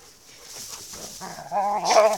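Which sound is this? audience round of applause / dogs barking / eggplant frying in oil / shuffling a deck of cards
dogs barking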